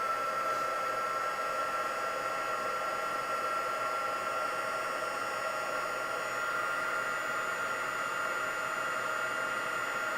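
A heat tool blowing hot air to dry ink on a stamped greeting card, a steady close whirring hiss with a faint tonal whine that runs unbroken throughout, with no talking.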